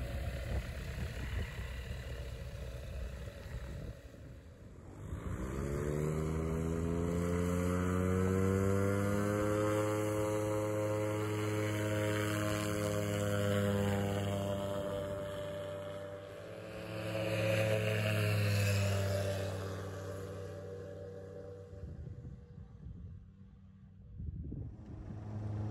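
A Seamax M22 light aircraft taxies on the ground, its engine droning steadily with a strong harmonic hum that rises and falls in pitch as power is adjusted, close and continuous with no talk.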